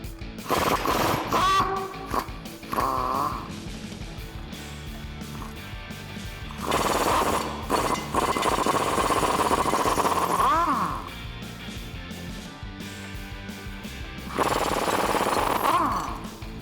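Impact wrench removing rusty U-bolt hardware on a 2005-2021 Toyota Tacoma 4WD during a lift kit install, several loud buzzing rattling bursts separated by quieter pauses.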